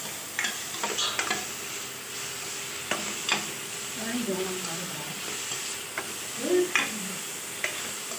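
Vegetables sizzle and fry in a pan while a spatula stirs and scrapes intermittently, close by, with no talking.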